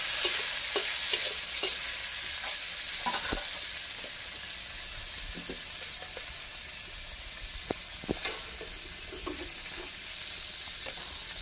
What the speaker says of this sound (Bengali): পনিরগুলো আমি হালকা করে ভেজে নেব।